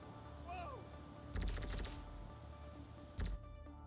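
Gunfire in the video game GTA V: a rapid burst of shots, then a single short burst a moment later, heard over a low game background.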